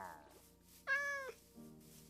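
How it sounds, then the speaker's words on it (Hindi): A cat in the Minecraft video game meows once, a clear, short, rising-and-falling game-sound meow heard alone between quiet background tones. "और भाई ये एक बिल्ली दिख रही है, ये कैसे टेम होती है?"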